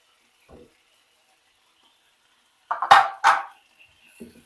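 Soy sauce, lemon juice and another sauce going into cooking spices in a pan for sesame honey chicken, heard as a couple of quick clinks and scrapes from a spoon against the pan, with near silence around them.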